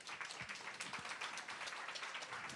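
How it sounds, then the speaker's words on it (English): A small audience at a residency program coordinators' education retreat claps in a steady round of applause, dense and continuous throughout without voices on top. "Let's give ourselves a round of applause for girl power."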